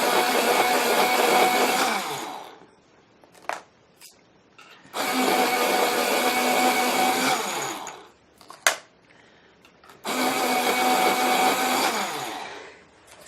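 An electric sharpener grinds colored pencils in lilac, Parma violet and black grape shades in three sustained whirring bursts of about two to three seconds each, separated by quiet gaps with small clicks and taps.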